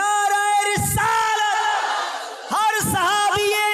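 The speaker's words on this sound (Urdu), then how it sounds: "اس نعرے کی یاد میں ہم بھی نعرہ لگاتے، نعرہ تکبیر" A large crowd shouts the Nara-e-Takbeer chant in unison at a religious gathering, loud sustained voices in two long swelling bursts with a brief dip between them.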